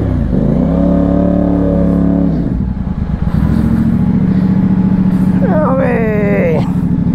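A CFMOTO 450CL-C motorcycle engine rumbles loudly and close while it is being parked, with a brief voice near the end.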